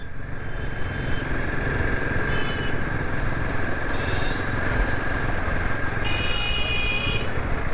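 Motorcycles, including an Apache bike, cruise along a hill road on a trip to Bhimtal, with a steady engine drone and rushing wind throughout and a few short horn toots at the end.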